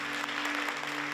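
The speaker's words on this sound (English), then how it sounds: "Applause. A sound we are all familiar with." A theatre audience claps in a dense, steady burst of applause, many hands together at an even level through the whole moment, with no voices standing out.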